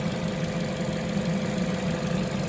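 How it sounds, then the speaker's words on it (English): A 2014 Opel Corsa D 1.4 engine idles steadily with the cooling system open, a close, even low rumble with a faint mechanical ticking and no voices. "we let the engine warm up"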